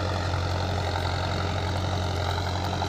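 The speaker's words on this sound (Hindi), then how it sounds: "ये अपना आज ट्रैक्टर फिर से चल रहा है" A Mahindra Arjun Novo tractor pulling a cultivator, with a reported RPM drop, runs with a steady, droning diesel rumble; the engine stays loud and close throughout, with no voices over it.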